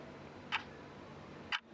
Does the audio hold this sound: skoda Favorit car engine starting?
no